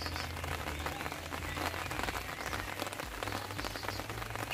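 Rain falls steadily on a back garden in England planted with sunflowers, strawberries and pansies, producing a dense, even patter of drops on leaves and surfaces with no voices.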